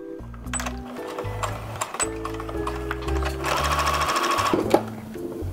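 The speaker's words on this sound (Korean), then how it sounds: "이렇게 윗실을 정리하지 않고 바로 노루발 위에 얹어놓고 재봉을 해볼게요." Domestic sewing machine stitching fabric with the upper thread laid over the presser foot, a close rapid mechanical whirring and clatter running in short bursts with brief pauses.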